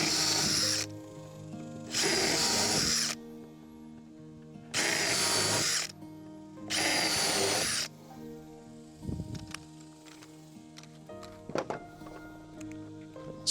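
Power drill boring holes in a wooden self-watering plant tray, four loud buzzing bursts of about a second each with pauses between, followed by quieter handling knocks and clatter.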